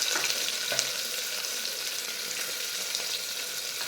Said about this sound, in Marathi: कांदा थोडासा दोन मिनिट भाजून घ्यायचा आहे